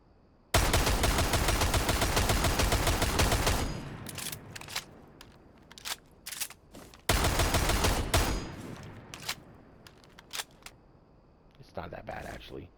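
Two long bursts of rapid automatic fire from a rifle fitted with an angled grip in Rainbow Six Siege, loud and close, each lasting about three seconds, followed by scattered single shots and clicks.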